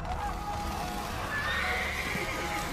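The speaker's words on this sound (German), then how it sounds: "Kommt denn hier die Pferdepanik her?" A panicked horse in the video game Witcher 3: Blood and Wine gives a high, drawn-out neigh that rises over a busy background of game noise.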